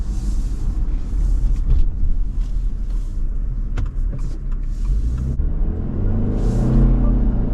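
Cabin sound of a 2024 Subaru Outback Limited XT driving down the road, a steady loud rumble of tires and engine with faint rattles and a swell of engine note toward the end.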